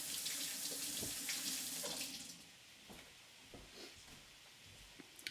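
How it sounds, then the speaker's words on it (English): A kitchen tap runs into a sink as hands are washed while making butter dosa, a quiet hissing stream with splashes that tapers off toward the end. "And let me wash my hands."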